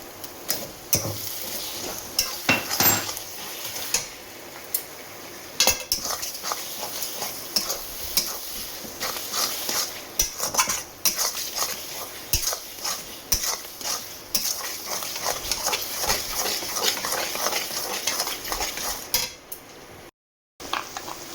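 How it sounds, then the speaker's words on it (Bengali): Spinach being stirred in a pan with ghee and green chilli paste, a spoon repeatedly scraping and knocking against the metal over a soft sizzle, the strokes quick and irregular, followed by a brief drop to near silence near the end. "এবার পালং শাকটা দেবো। পালং শাকটা দিয়ে দিলাম।"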